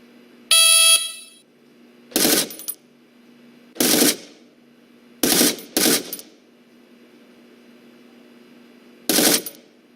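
Rifle fire on a firing range in the America's Army video game, heard as a run of sharp, loud single shots and a quick pair spaced unevenly over a steady low hum. A short electronic tone sounds before the shots.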